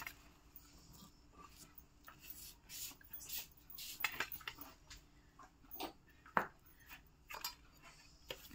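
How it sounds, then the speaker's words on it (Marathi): Roasted chillies pounded in a mortar and pestle, irregular sharp knocks and taps at close range, some louder than others, with quiet gaps between strikes. "या ठिकाणी मी खलबत्त्यात मिरची बारीक करून घेत आहे, कुटून घेत आहे"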